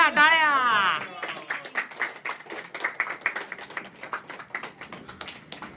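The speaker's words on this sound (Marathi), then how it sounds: "टाळ्या टाळ्या." A family group claps for a sister who has joined the police, at a Bhaubeej gathering. A voice speaks first, then a run of quick, fairly even claps follows nearby.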